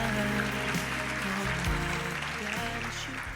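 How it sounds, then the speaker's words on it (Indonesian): Church congregation applauding during an online worship service, a steady wash of clapping under sustained music with low tones, fairly loud and continuous throughout. "Sekali lagi tepuk tangan yang terbaik buat Tuhan kita."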